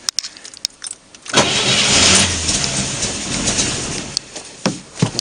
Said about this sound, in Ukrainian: Заводить машину.